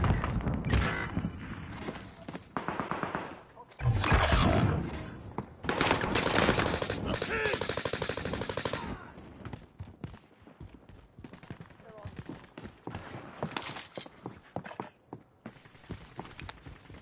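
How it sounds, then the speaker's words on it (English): Gunfire in the video game Warzone, loud rapid shooting bursts at the start fading into scattered sporadic shots, with voice chatter mixed in. "They've got me sighted. Taking direct fire."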